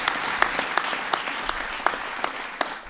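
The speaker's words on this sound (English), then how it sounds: "That's worth applauding." An audience claps steadily for a few seconds, a dense crowd applause with a few sharper claps standing out near the front.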